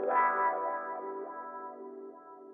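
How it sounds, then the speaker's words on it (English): A sustained electric guitar chord drenched in long reverb and echo rings out, slowly decaying with shimmering, wide, effected tails. "I just put a reverb with a lot of decay, put a stereo control, made it pretty wide"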